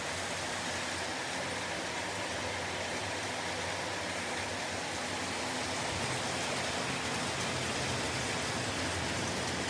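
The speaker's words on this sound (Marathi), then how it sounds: "अचानक पाऊस यायला चालू झाला होता" Steady, dense hiss of a sudden rain shower fills the whole stretch, even and unbroken, with no voices and no distinct drops standing out.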